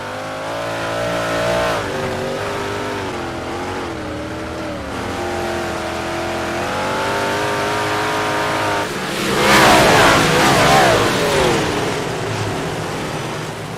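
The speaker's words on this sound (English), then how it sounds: "We're going to go back to green flag racing here." Big block modified race cars roar around the dirt oval at Lernerville Speedway under green flag racing, engines droning loud and steady with rising and falling revs, then a fuller, harsher surge as the pack drives close past.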